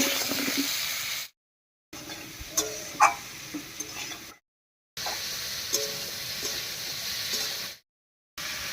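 Pointed gourd (potol) seasoned with turmeric and salt sizzles in a pan of hot oil, a steady close hiss with small pops, broken by a few short silent gaps.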